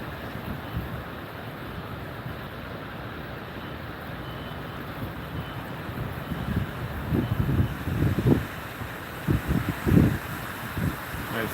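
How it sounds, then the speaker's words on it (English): Wind rushes steadily across a microphone outdoors on a snowy Pacific Northwest day, swelling into a stronger buffeting gust with low rumbling bursts near the end. "Nice gust there."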